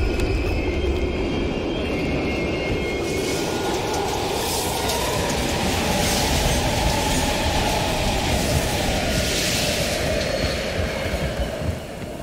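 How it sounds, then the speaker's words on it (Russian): A train rolls past and slows at an abandoned station in the video game Call of Duty: Black Ops Cold War, giving a steady loud rumble and rattle of wagons with faint wheel squeal, heard alone with no talk. "Поезд замедляется."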